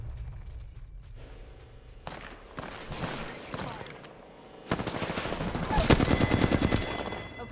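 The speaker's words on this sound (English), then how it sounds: "Opening fire" Rapid automatic gunfire in a shooter video game, bursts building from sparse shots into a loud, dense rattling volley near the end, with game sound effects around it.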